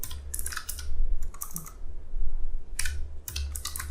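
Bursts of rapid clicking keystrokes on a computer keyboard, typing a sudo bin bash command, with brief pauses between clusters, close and distinct, no speech.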